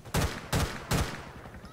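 Gunfire in the GTA 4 video game with the LCPDFR police mod, three loud sharp shots evenly spaced about a third of a second apart, each with a short booming tail, heard alone.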